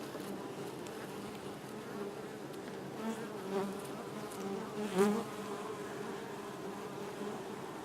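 Honeybees bearding at the front of hive number 9 on a hot 93-degree Florida afternoon give off a steady, close, droning hum, with individual bees buzzing past now and then.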